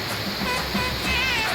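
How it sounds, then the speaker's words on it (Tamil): Water pouring down from above into a river at Valparai during the monsoon, a steady, close, continuous rushing roar with no break and no talk over it. "வேற லெவல்ல மேல இருந்து தண்ணி ஊத்திட்டு இருக்கு."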